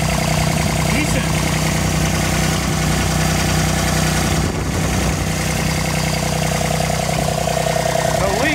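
A Kubota RTV1140 utility vehicle engine idles steadily and loudly up close, a constant low throbbing drone while air is purged from its coolant system after a water pump repair, with a voice speaking over it.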